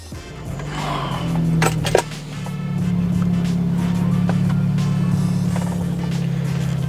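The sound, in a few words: BMW F30 car engine started and running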